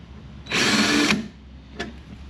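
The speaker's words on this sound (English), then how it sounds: "So what we're going to do is take our drill" A power drill with a 3/8 bit whirs in a steady high-pitched burst for about half a second on a 1964 Correct Craft American Skier boat, then stops, followed by a brief second squeeze of the trigger.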